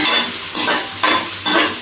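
Oil sizzles and crackles steadily in a hot pan as spice tempering fries for paneer bhurji, with periodic swells of louder frying as the mixture is stirred about every half second.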